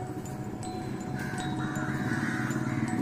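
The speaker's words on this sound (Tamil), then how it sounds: "இது காக்காலாம் வர கத்த ஆரம்பிச்சிச்சுரா" Crows cawing at 4 am during a pre-dawn walk, a few calls over a steady low background hum, moderately distant and fairly faint.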